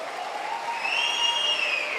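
A church congregation gives a short round of applause, steady, moderately loud clapping with a few high whistles or whoops rising over it.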